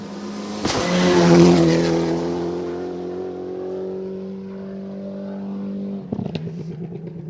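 A rally car driven hard on a gravel stage roars past close by, engine screaming then fading as it moves away, with a sharp mechanical burst near the end.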